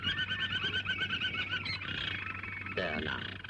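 A canary singing in a 1936 film, a rapid repeated chirping trill up close that gives way to a steadier warble, with no talk.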